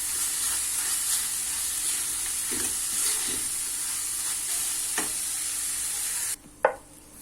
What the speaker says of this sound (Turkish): Kekik ve pul biberimizi koyup karıştıracağım.